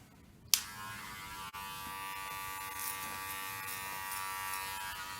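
An electric shaver buzzes steadily while shaving a head, starting with a sharp click and running as a close, continuous high whine with slight shifts as it moves across the scalp.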